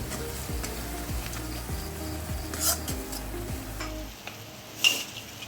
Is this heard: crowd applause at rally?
no